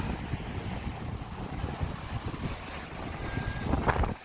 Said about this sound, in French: ce qui est impressionnant quand on est kitesurfer, c'est le vent offshore